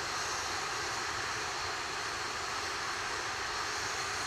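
A SpaceX Falcon 9 rocket roars during launch, its engines making a continuous broadband rumble and hiss that stays steady and dense from start to finish, heard alone with no voices.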